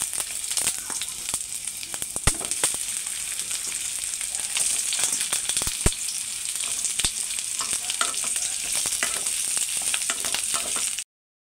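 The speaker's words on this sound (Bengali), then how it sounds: "আমাদের তেলটা গরম হয়ে গেছে, আমি ঝিঙেগুলো ভেজে নিয়ে নেব।" Sliced ridge gourd frying on full flame in hot oil in a wok, a loud constant sizzle broken by sharp crackles and stirring clatter, close up and uninterrupted until it cuts off abruptly.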